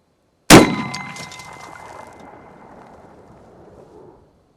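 A single loud shot from a Remington Model 8 self-loading rifle firing .35 Remington at targets outdoors: sharp crack followed by a long fading rumble and ringing echo, no speech.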